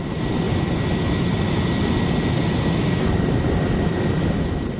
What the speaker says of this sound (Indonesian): helikopter Karakal TNI Angkatan Udara mempercepat penyaluran bantuan ke sejumlah wilayah Aceh Tengah dan Bener Meriah